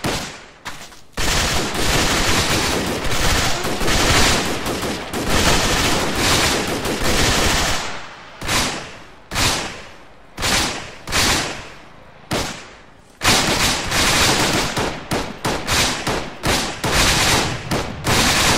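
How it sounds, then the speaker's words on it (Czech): Gunfire in the military shooter Arma 3 arrives in loud bursts and volleys, with dense automatic fire at first, then single cracking shots spaced apart, then heavy sustained bursts again, and no voices over it. "Někdo po nás střílí,"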